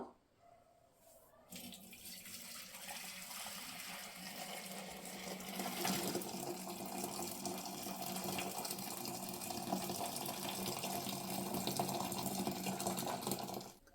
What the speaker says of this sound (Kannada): ಇವಾಗ ನೋಡಿ, ಬೇರೆ ಪಾತ್ರೆಗೆ ಬಸ್ಕೊಳ್ಳೋಣ.